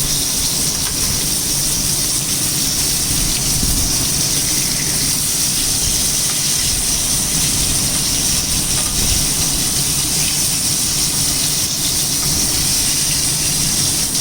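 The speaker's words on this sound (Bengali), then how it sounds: "মোটামুটি ভাজাটা হয়ে আসছে, হালকা করে ভেজে নিলাম। মাছগুলি এখনই নামিয়ে নেব।" Rohu fish pieces sizzle as they fry in oil on an old, worn iron tawa that is not nonstick. The hissing is steady, loud and close, with no break and no talk.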